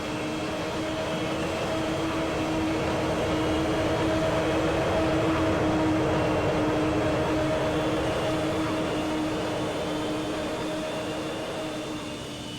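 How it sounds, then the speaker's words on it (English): Avro Vulcan Cold War strategic bomber flying past in the PTFS video game, a loud steady droning roar with a sustained whine and hum throughout. "The real Avro Vulcan was a British strategic bomber from the Cold War era. It has also a very unique sound when it flies next to you."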